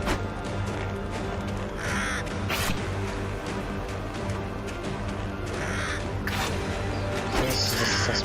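Crows caw repeatedly in the game Vikings: Wolves of Midgard, with several harsh calls scattered over a few seconds above a low ambient background.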